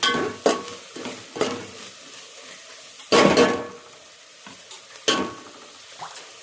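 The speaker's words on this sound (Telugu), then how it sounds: "ఇప్పుడు చికెన్ వేసేసుకుందాం" Raw chicken for a bagara rice and chicken curry is tipped into a hot pan and stirred, giving a steady sizzle broken by several loud scraping, clinking stirs of a utensil against the metal pan, with no talking.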